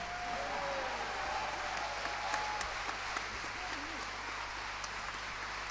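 Concert audience applauding an orchestra and drummer at a Christmas and New Year pop-rock concert by a town brass band in Sevnica, steady dense clapping filling the hall throughout, with faint voices underneath.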